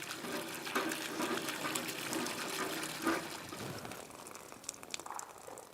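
Water drawn from a village well in Afghanistan, a short gushing pour and splash that fades into a few faint drips and knocks.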